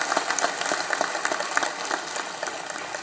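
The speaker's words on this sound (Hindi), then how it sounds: "आज जरा जोर से ताली बजाओ" A large audience at a state awards ceremony claps loudly and continuously, dense overlapping hand claps with sharp individual strikes throughout, no talking on top.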